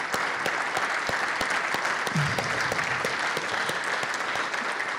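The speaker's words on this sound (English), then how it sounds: "So we can just give you all a round of applause." An audience at a community health partnership event gives a round of applause, a dense, steady burst of many hands clapping that fills the room and continues evenly without pause.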